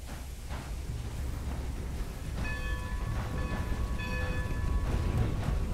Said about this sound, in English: Time to start this train again.